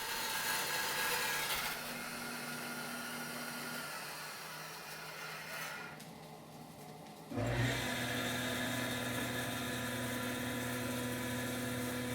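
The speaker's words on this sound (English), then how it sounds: "Now on the bandsaw, I'm cutting out this strip from next to the handle" Bandsaw running steadily with a constant whirring drone, dropping briefly before a fresh cut into a strip of walnut board beside a natural knot handle, the blade pitch and loudness shifting as it bites into the wood.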